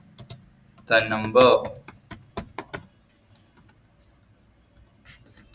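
Code is typed on a computer keyboard in short bursts of clicking keystrokes, with brief speech over the first tapping.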